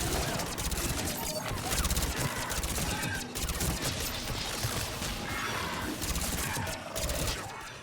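Dense, continuous gunfire from the video game Mass Effect 3: rapid crackling shots and impacts pile up into a loud, steady fusillade lasting the whole stretch, with game sounds layered underneath.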